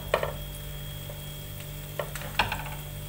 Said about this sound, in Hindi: ऐसे ही सारे आप ऐड कर लें और उनको फ्राई कर लें।